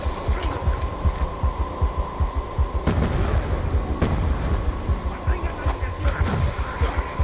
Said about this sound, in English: which fires a 3-round burst and explodes